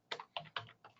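Four quick keystrokes tap on a computer keyboard in an uneven rhythm, close but quiet, with no voices.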